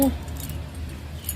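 A bunch of keys jangling in a brief metallic rattle, with a clink at the start and a faint shake under someone speaking.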